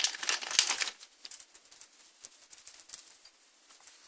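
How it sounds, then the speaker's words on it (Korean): Crinkly tearing and rustling of paper packaging, loudest at the start, then lighter scattered crackles and rips fading off. "뜯어볼게요."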